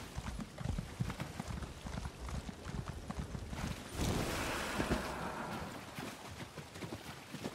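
Horse hooves clip-clop steadily in the video game ESO Morrowind, a rapid regular patter over a wash of water and wind ambience that swells midway, then the hoofbeats continue.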